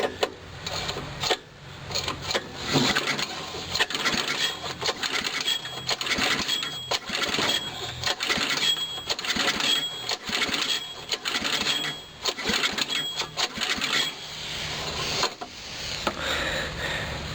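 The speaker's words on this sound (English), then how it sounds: "Let me do a little bit more cranking, see if I can get that up." A 5 horsepower H50 generator engine is cranked for a cold start. A loud, dense mechanical rattle and ratcheting churn runs almost nonstop with brief pauses, close to the microphone.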